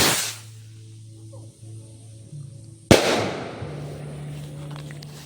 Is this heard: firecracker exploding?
yes